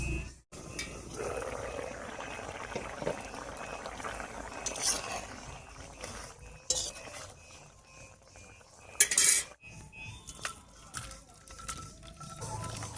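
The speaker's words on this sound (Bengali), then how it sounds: "এবারে ঢাকা খুলে নামিয়ে নিচ্ছি।" A pot of Bengali magur fish curry with raw papaya and thankuni leaves simmers with soft bubbling, then metallic clinks ring out as the lid is lifted and the pot is taken off the stove.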